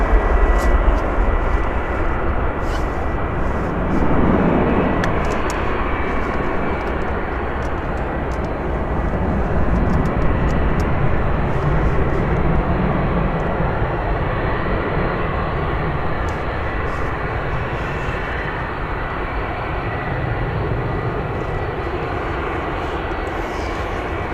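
An aircraft taxiing at Manchester Airport produces a continuous broad engine rumble and roar at steady moderate loudness, heard from some distance with no talk over it.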